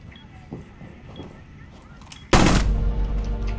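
Sudden loud burst of gunfire in Rainbow Six Siege at a bomb site during a Plane team deathmatch round, erupting after quieter game sounds and faint low chatter, then sustained, dense and close.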